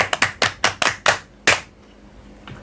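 Audience on a children's radio show clapping for a child: about seven sharp, separate claps in an uneven rhythm, close and fairly loud, then a quieter pause with one faint clap at the end.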